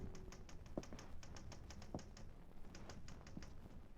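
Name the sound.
typing on a typewriter, radio drama sound effect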